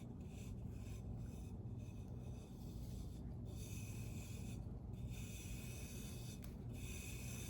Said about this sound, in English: And I'm rubbing that glitter in that section.